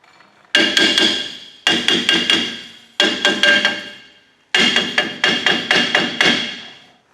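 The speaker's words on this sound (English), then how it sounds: "Sometimes you might need a little tap with the hammer" Sharp metallic hammer strikes on a Toyota Tacoma rear brake drum ring out in four quick bursts of four to six blows each, close and loud, with short pauses between bursts.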